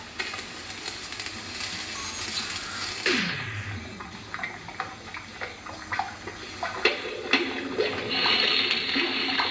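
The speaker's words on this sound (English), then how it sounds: "Now, I'm dropping sodium-potassium alloy into the water." Sodium-potassium alloy dropped into water gives a falling whoosh, then a run of sharp crackles, pops and sizzling as the burning droplets react, ending in a steady hiss.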